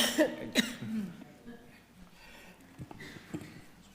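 A few sharp coughs close to the microphone during a planning committee meeting, followed by quieter throat sounds and a soft cough later, with no speech.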